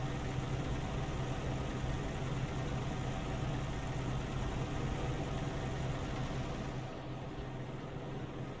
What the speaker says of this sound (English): Roll over the window so you can hear the engine run.